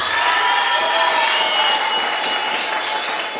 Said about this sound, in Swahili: Hebu ongeza makofi kwa Yesu aliye hai.